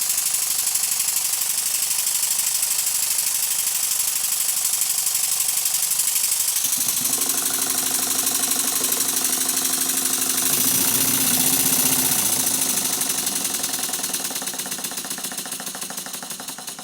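A model steam engine runs on compressed air with its slide valve set for late admission, a steady rapid mechanical chuffing and hiss close by that shifts in tone partway through, then gradually fades toward the end.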